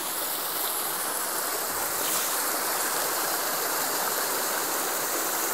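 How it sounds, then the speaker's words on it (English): A small stream and little waterfall run right beside a tent at a backpacking campsite in Stone Mountain State Park, giving a steady, close, broadband rush of flowing water with no voices over it. "Little stream running down."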